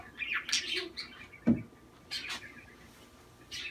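A pigeon at an apartment window, with a few bright chirpy calls and fluttering sounds close by, plus a brief low coo-like burst, under light background noise with no talk.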